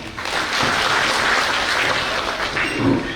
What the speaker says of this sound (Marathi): तुमच्यासाठी एका जोरदार टाळ्या